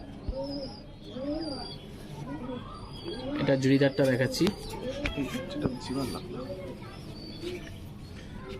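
High-flyer pigeons coo repeatedly close by at a loft, with soft rolling calls and some flapping, while someone talks over them.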